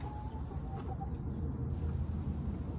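Chickens cluck softly while pecking at vegetable scraps, a few quiet, scattered clucks over a low, steady background with no talking.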